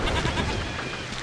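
Goats bleating in the video game Ultima IX: Ascension, a brief, close, dense burst of overlapping bleats lasting about a second with no talk.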